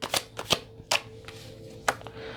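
Tarot cards being shuffled and handled up close, giving a few quick, sharp riffling snaps at uneven intervals over a faint background hum, with no speech.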